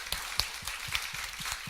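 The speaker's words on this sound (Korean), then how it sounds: "박수 한번 올려드리겠습니다." A church congregation gives a short burst of applause during a service, individual claps distinct and fairly close, moderately quiet and irregular.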